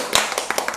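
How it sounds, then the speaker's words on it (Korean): A small church group in an online gathering claps hands in a few quick, close claps, brief and light. "우리 박수치기로 선택할까요?"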